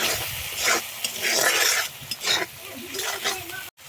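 Spice paste being stir-fried in a pan for a winter melon and potato dish, continuous hissing sizzle broken by rhythmic spatula scrapes and stirs, close up, ending in a sudden cut.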